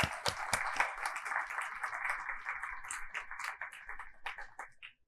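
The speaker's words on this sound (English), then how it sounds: "Can we give them a round of applause?" A live audience applauds catering, IT and facilities staff at a campus conversation event, steady clapping that fills the room for about five seconds before thinning out and fading.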